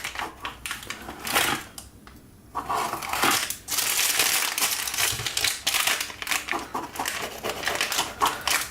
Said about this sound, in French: Alors, je coupe ma galette.